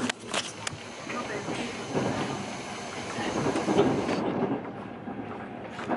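Interior of a moving passenger train bound for Florence, Italy: steady rumbling rolling noise with faint rail clicks and a soft hiss, the cabin sound continuing throughout with occasional voices in the background.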